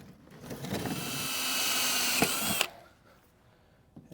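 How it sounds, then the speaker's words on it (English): A power drill bores new holes in a paramotor frame, whining at high pitch in one continuous burst of about two seconds, then stopping. "And then I'm going to drill new holes."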